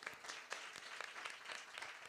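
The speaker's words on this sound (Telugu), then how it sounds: "గట్టిగా చప్పట్లు కొడదా" A church audience claps during a Telugu Christian sermon, producing a steady, fairly faint wash of many hands clapping at once that carries on for a couple of seconds.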